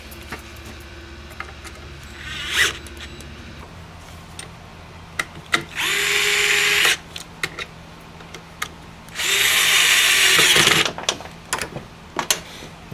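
Cordless power drill driving screws during a bearing repair on a Hitachi miter saw, two sustained whirring bursts of a couple of seconds each with short clicks and handling noises between them, close and fairly loud.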